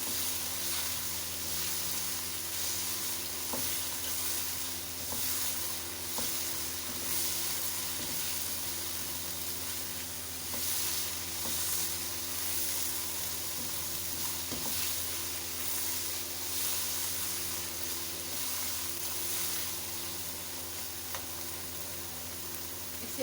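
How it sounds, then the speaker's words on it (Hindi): Grated bottle gourd halwa roasting in a pan, with a steady hiss of frying and occasional soft stirring scrapes, close up with no talk. "इसे अभी और अच्छे से भूनेंगे हम। इसे भूनते हुए तकरीबन मुझे 15 मिनट हो गए।"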